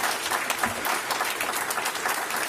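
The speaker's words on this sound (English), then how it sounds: "when those two lines receive applause" An audience bursts into thick, continuous applause at a public announcement, many hands clapping evenly and fairly loudly for the whole stretch without any speech.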